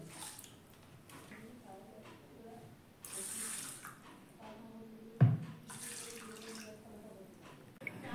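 Water is poured from a cup into a bowl of washed rice, a soft trickling and splashing with a brief louder splash partway through, under low background noise.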